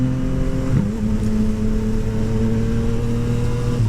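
A Yamaha MT-09 motorcycle fitted with an Akrapovic exhaust drones steadily and loudly while taking corners near woods, with a brief throttle change and pitch dip early before the engine note settles into a sustained, close-up hum.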